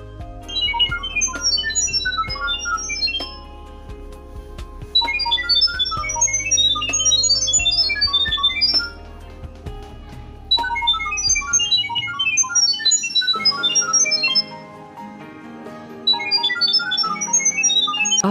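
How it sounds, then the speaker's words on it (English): A mobile phone held near a D8862 security camera plays a sequence of short, beeping musical configuration tones in quick melodic bursts, loud and steady with brief pauses between phrases. "Phone will produce music sound."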